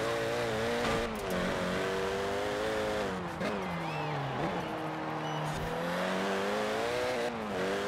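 Engine of a car driven in Forza Horizon 4 hums and revs steadily throughout, with shifting pitch as it accelerates and eases off, loud and continuous with a brief tire squeal.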